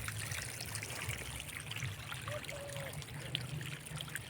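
Irrigation water trickles and flows steadily through a field of vegetables, a soft continuous burble with no voices over it.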